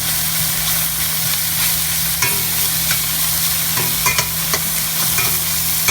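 Green chile frying in a pot while being stirred, with a steady close sizzle and repeated scraping strokes of a utensil, no voices.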